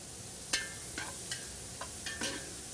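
Beef browning in a pan with a steady low sizzle, broken by a few soft clicks and scrapes of stirring, close and quiet.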